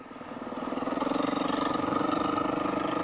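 A 2022 Husqvarna FE 350s dirt bike idling and revving lightly on a snowy trail, with a steady pulsing engine note that swells a little over three seconds, close and fairly loud.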